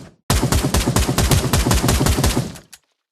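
Gunfire from a weapon in the VR shooter Pavlov VR, a loud rapid burst of closely spaced shots lasting over two seconds, then a single trailing shot before silence.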